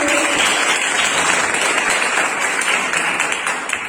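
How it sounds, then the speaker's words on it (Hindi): An audience at a business gathering gives dense, sustained applause for company owners, a steady wash of many hands clapping with no talk over it. "मैं चाहूंगी इनके लिए जोरदार तालियां हो जाए"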